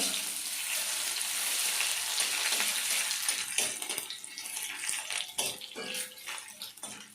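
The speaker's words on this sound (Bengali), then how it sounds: "রসুনটা একটু লাল লাল করে ভাজবো" Garlic sizzles steadily in hot oil in a pan for a Bengali lentil-fritter curry, a dense continuous frying hiss with occasional clicks and scrapes toward the end, close and fairly loud, with no voices.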